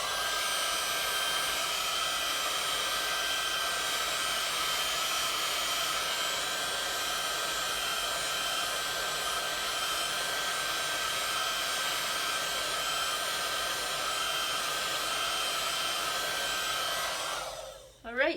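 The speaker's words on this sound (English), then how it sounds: "And oh, I am going to shoot it with the heat gun though." A heat gun blows steadily over resin coasters, giving a constant close, loud whoosh that holds for most of the clip and then cuts off at the end.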